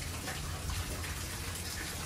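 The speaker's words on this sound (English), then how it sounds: "Rinse it out with water." A paintbrush is swished and rinsed in water at close range, making a steady, soft splashing and gushing that lasts the whole short moment with no voices.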